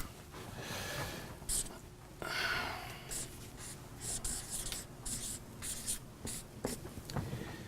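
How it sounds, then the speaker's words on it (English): Marker writing on a board, a series of short scratchy strokes and squeaks in uneven bursts, close and moderately quiet, with faint breathing between strokes. "I'll write it down on this board."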